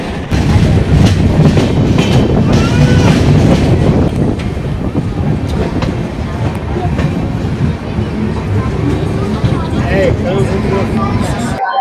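A Janshatabdi Express running on rails on the Thane to Nashik route, heard as a loud, steady rumble with rhythmic clickety-clack of wheels over rail joints, continuous throughout with faint voices under the noise.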